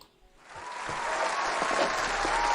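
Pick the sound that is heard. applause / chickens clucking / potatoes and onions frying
applause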